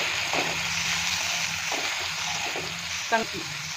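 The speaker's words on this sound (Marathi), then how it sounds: "तो आधी असा पूर्ण तेलात तोही भाजून घ्यायचा" Spring onion tops frying in oil in a pan, a dense continuous sizzle with faint stirring scrapes and a brief clink near the end, no voices.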